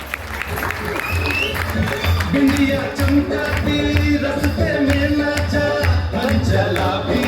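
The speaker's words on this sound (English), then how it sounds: "A huge round of applause to him." Audience applause at an outdoor devotional tent event, sustained clapping from a crowd under loud background music and voices, fairly close and continuous throughout.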